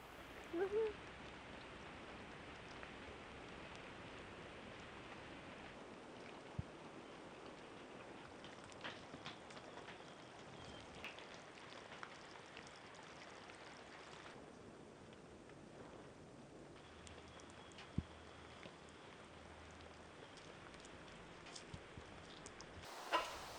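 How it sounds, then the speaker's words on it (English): Rain falling around a steel boat under restoration, a faint, even patter with occasional louder single drops and ticks spread across a long stretch, no talking. "we didn't get the paint on before the rains came."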